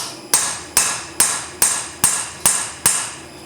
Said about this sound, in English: Give it another tap. Drive it through to the anvil.